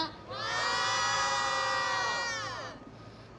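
A crowd at a press conference in Korea lets out one sustained, rising cheer lasting a couple of seconds before it fades away.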